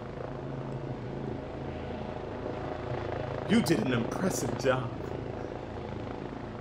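A helicopter in a zombie office video game drones steadily with a close, continuous rotor thrum, while a voice speaks over it and brief bright electronic tones sound midway.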